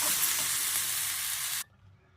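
Brown rice being stirred in a hot pan with grated fresh coconut and coriander, a close, steady sizzling scrape that cuts off abruptly before the end.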